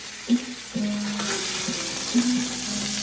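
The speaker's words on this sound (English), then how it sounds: "I'm gonna put the salmon in skin side down without seasoning it" Skin-side-down salmon fillet sears in a hot pan, a steady close sizzle with a few soft thumps and clinks of the pan over a continuous hiss.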